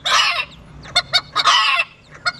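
A rooster crows loudly twice, with short honking calls and clucks from other fowl in between, close by and with no talking.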